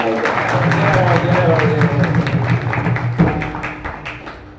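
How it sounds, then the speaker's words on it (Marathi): An audience at a Marathi kirtan claps loudly in a quick, steady rhythm, with voices and tonal music running underneath before the clapping tails off near the end. "एकदा जोरात टाळ्या वाजवा"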